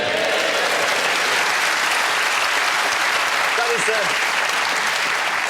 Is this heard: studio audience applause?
yes